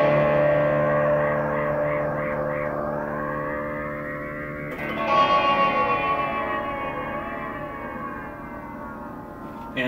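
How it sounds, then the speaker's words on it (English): Moogerfooger ring modulator processing a tone into metallic, sci-fi outer-space timbres, with wavering pitch sweeps and a sudden shift midway, steady and fairly loud, alone without talk. "The ring modulator, just classic outer space sounds."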